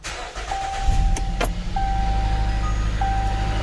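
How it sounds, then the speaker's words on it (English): A 2017 Jeep Cherokee engine starting during coolant work, a steady close idle rumble with a faint repeating chime. "I'm just going to go ahead and start the car up just for a second so I can get everything out of the water pump."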